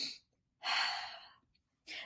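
A person demonstrates the bunny breathing exercise for calming emotions, producing loud, breathy airy inhalations close to the microphone: a short burst, a longer drawn breath, then another burst, with quiet gaps between them.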